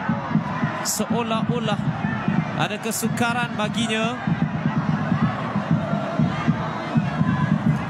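A crowd at a night football match at Stadium Likas in the Malaysian Super League, Sabah FC against KL City FC, keeps up steady chanting and drumming-like noise while a commentator talks over it.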